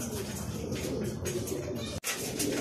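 Racing pigeons coo softly in a loft, their low, repeated throaty calls close and steady, with a brief pause near the end.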